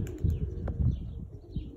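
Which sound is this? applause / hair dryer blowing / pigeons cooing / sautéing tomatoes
pigeons cooing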